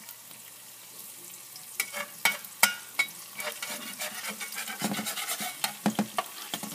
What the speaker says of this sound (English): So I like to kind of cook my egg a little bit before I start.